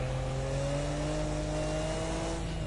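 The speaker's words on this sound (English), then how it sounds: "You can hear the car really struggling a little bit." A Nissan Skyline R34 GT-R engine drones steadily at moderate load off turbo boost, its pitch rising slowly as it strains to pick up speed on the Nordschleife, continuous and fairly close.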